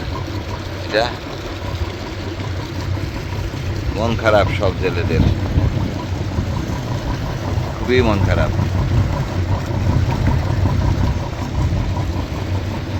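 Fishing trawler engines idle in a low, steady drone at Alor Kol amid wind and rough water, while someone talks over the rumble and a few other voices chime in.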